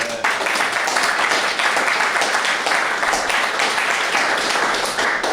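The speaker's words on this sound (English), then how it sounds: "maybe a big round of applause for Chris" An audience at a tech accelerator and training program inside San Quentin breaks into applause, a dense, sustained wash of clapping from many hands at moderate distance.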